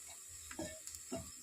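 Tadka tempering for moong dal sizzling in a hot pan, a steady frying hiss with a few brief stirring scrapes, close and alone without talk.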